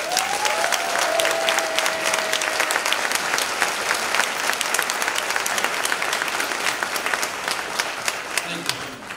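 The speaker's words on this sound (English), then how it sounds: "can the audience help me applaud her?" Audience at a high school graduation ceremony applauding, sustained dense clapping from a large crowd filling the hall, with a brief voice at the start and a few voices near the end.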